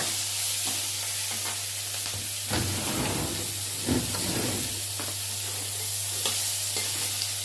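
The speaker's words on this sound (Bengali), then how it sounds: "এই দেখো আলুগুলো দিলাম এক কলা তেল দিচ্ছি" Potatoes fry in oil in a pan, a close, continuous sizzle and hiss with a few stirring scrapes and brief bursts of spattering, no voices.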